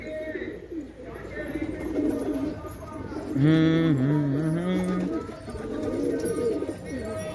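Pigeon chicks cooing in a home loft, a soft, wavering coo that rises and dips for a couple of seconds over a muffled background, with a person talking nearby.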